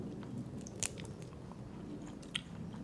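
Someone bites into a sheet of dried fish snack, giving two sharp crunchy bites over a quiet room background.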